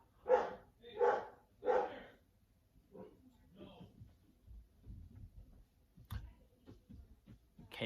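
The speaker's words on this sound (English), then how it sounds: "Okay, sorry, that was my dog." A dog barks three times in quick succession, loud and close indoors in a home, followed by quieter household movement and a person talking.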